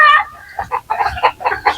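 Native gamecocks tied up outdoors cluck loudly and close by in a short burst of several throaty calls, with a brief crow-like note at the start.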